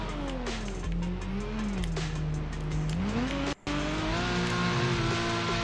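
Game car drifting in the TorqueDrift racing game on Android, with a loud continuous engine note that rises and falls and a steady tire squeal running throughout, briefly cutting out for a moment near the end.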